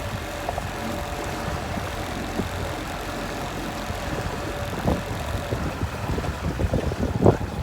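Wind blows over a lake at Houseboat Bay near Yellowknife, with big waves around a fishing boat: a steady, close rushing roar of wind buffeting the microphone, with scattered low thumps and no talking.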